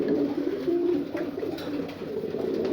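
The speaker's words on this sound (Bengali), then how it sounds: "এটা হচ্ছে আমার উড়ার কবুতর" Flying pigeons in a loft coo softly and steadily up close, a low murmuring call that carries on with no talk over it.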